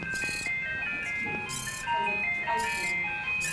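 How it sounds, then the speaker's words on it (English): A workshop robot plays a looping ice cream truck jingle, bright repeating tones ringing steadily and fairly loud throughout, with a few sharper bursts layered on top. "in mine, the ice cream truck loops around and around and around."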